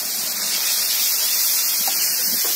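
Ginger, cumin and green chilli paste hits a hot pan of fried coconut and garam masala for a vegetarian dish, giving a loud, steady hiss of sizzling that holds evenly throughout with no voices.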